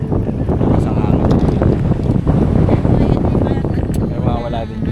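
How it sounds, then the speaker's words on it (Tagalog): Strong gusting wind buffeting a fishing boat on Manila Bay ahead of a rain cloud, a loud continuous roar of wind noise with a voice talking faintly within it. "Medyo malakas yung hangin."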